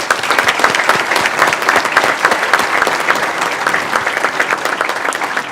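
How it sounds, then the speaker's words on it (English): A dense, steady wave of audience applause greets the award nominees at the 2018 ATHENA Award ceremony of a regional chamber, many hands clapping at once with no break for the full few seconds. "Can we please give a round of applause to our final group of nominees?"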